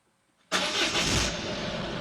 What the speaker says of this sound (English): So here is really the engine starting